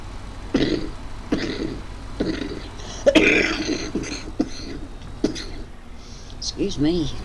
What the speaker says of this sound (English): Oh, I love to have a cough.